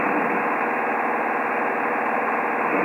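A Grob light aircraft engine in flight at cruising speed, heard from inside the cabin as a steady, loud, continuous drone without variation and without talk.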